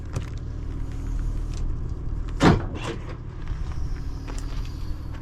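A 2018 Ford F-150 Powerstroke pickup door being opened, a single short clunk of the latch midway through, followed by a softer scrape amid quiet ambient background.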